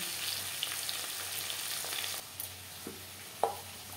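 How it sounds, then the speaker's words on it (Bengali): Fish pieces fry lightly in oil for a mustard-paste fish curry, with a soft, even sizzle that eases after about two seconds, followed by a few light clinks of a utensil against the pan. "মাছ আমি হালকা করে ভেজে নিলাম।"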